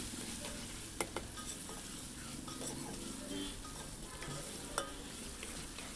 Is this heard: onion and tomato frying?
yes